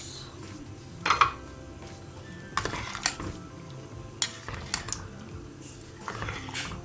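Scattered clinks and soft thuds of currants dropping into a metal pot of simmering aşure, irregular and close, over a faint steady background with no talking.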